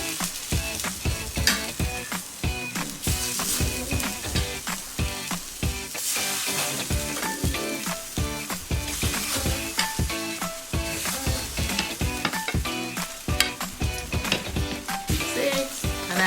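A Scotch egg frying in bubbling oil in a Saladmaster pan gives a loud, dense, continuous sizzle and crackle that stays steady throughout, close up and with no voices.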